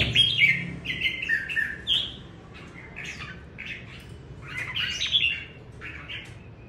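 Pet songbirds in cages hung outside in the morning chirp and squawk in repeated bright bursts, fairly close and lively, with several overlapping calls and no talking.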